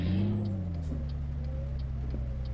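An unloaded truck in Euro Truck Simulator 2 pulling away, a steady low diesel drone with the pitch gradually shifting as it accelerates, close and continuous.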